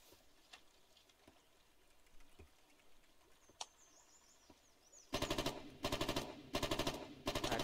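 War video game gunfire: scattered faint distant shots and ticks at first, then three loud close bursts of rapid automatic fire in quick succession near the end.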